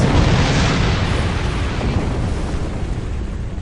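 Proton cannons fire from a science destroyer starship in Star Trek Online, a loud, dense roar of blasts and explosions that starts strong and slowly eases off over several seconds.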